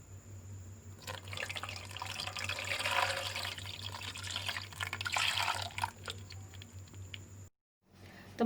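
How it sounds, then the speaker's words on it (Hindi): Cold water pours over cooked sago draining in a kitchen strainer, a steady close splashing rush that runs for several seconds before stopping abruptly. "ऊपर से मैं ठंडा पानी डाल दूँगी।"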